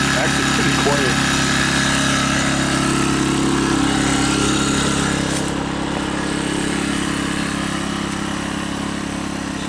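Sportsman 1000 watt portable generator running through a break-in, a loud, steady engine drone with a buzzing low hum, heard up close near the muffler without pause for the whole stretch.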